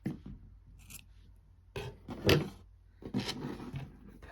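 Scissors snip the loose yarn tails off a crocheted amigurumi ear, a few quiet, brief cuts scattered among faint handling rustles in a calm indoor setting.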